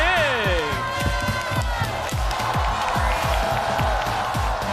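A crowd cheers and applauds loudly and steadily, with rhythmic clapping and excited whoops throughout, and shouting voices rising above the din.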